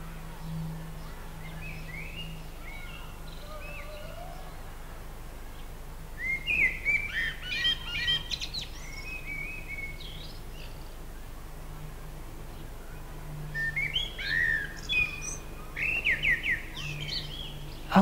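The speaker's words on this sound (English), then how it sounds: "this blackbird has been cheeping and having a conversation with another blackbird for ages" Blackbird calls ring out in two bursts of high, clear chirps and short warbled phrases, a few seconds apart, over quiet outdoor background.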